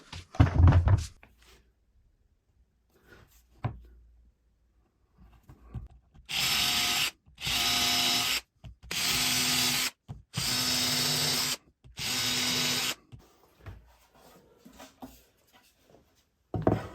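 A power drill boring fixing holes in a drill press table, five bursts of high whirring each about a second long with brief pauses between, following quiet handling knocks.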